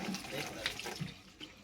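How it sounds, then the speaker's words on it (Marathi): Water pumped by a motor runs and splashes out of a pipe, a muddy flow pouring steadily while a voice talks over it. "पाणी आलं आहे, पाईप लावला आहे"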